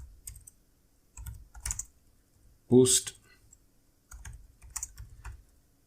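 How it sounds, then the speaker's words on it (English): Laptop keys clatter in short bursts of rapid typing, close and moderately loud, with a brief spoken word in the middle. "Please forgive my typing. I'm on a laptop right now."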